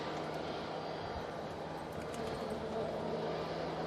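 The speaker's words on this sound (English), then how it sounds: "Qatar Airways 787-9 Dreamliner." A Qatar Airways Boeing 787-9 Dreamliner lands at Manchester Airport in stormy weather, its engines giving a faint, steady distant roar mixed with wind noise and a low constant hum.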